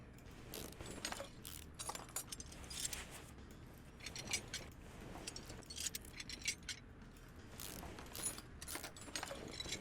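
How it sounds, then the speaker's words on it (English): Car parts clank and rattle as an axle is pulled free in Car Mechanic Simulator 2018, a steady run of metallic jangles, ratchet clicks and knocks at close range with no talking. "pop this axle out"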